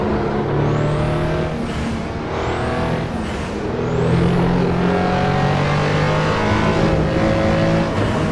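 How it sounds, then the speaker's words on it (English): A twin-turbo 1987 RUF CTR Yellowbird in Assetto Corsa revs up through the gears, engine drone loud throughout with a rising turbo whistle on each pull and brief drops between shifts. "Just listen to that beautiful turbo as this pulls up."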